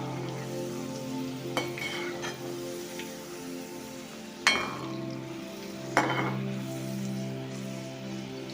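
Green chillies fry in hot oil with a steady, soft sizzle while a spatula stirs them, adding two sharp scrapes against the pan; no one speaks.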